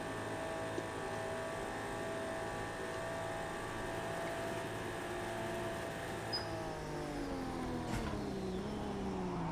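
Race car engine held at steady top speed in Project Cars 2 at Le Mans 1967, a continuous loud drone with layered harmonic whine, slight pitch dip near the end and a brief sharp transient, no talk.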